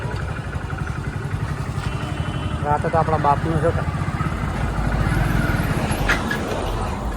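A motorcycle engine rumbles steadily close by while people talk over it.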